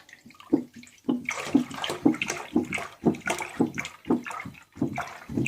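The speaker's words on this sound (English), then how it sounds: "Okay, we're now adding the milk to the pot." Milk pours from a container into a cooking pot while making homemade cheese, a steady liquid stream broken by rhythmic glugging surges about twice a second, close and fairly loud.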